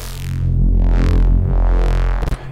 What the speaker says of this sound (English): And what I've done is gone ahead and made a bass that sounds like this.